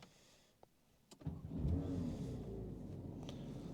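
A Porsche 992 GT3 Touring starts up at night. After a near-silent pause and a couple of faint clicks, the engine cranks and catches with a deep rumble, then settles into a steady, loud idle.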